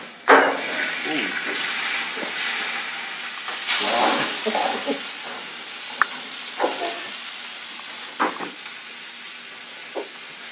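Shrimp frying in a pan, a steady moderate sizzle and hiss with a few sharper pops and stirring clatters over the stretch.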